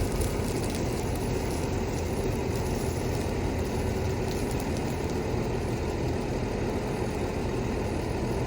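A tractor, an 820 model, runs steadily in a field during grass seed and straw carting, giving a continuous, fairly loud low engine drone with no breaks.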